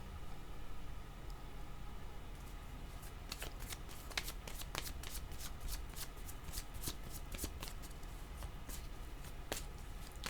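Tarot cards are shuffled by hand in quick riffling bursts, a rapid series of crisp papery flicks that grows busier midway, close but soft over a faint hiss.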